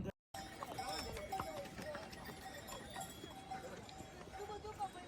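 Horses' hooves clip-clop on the Kedarnath trek path, a busy run of sharp, irregular knocks from several animals close by, with people talking over the hoofbeats.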